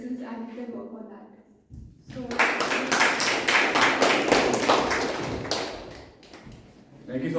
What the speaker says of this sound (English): That's a big round of applause.